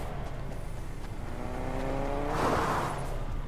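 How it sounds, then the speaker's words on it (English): Car engine in the Fortnite video game, a steady engine drone with rising revving tones that swell louder toward the end, as if a vehicle approaches and passes nearby. "If not, I hear a car."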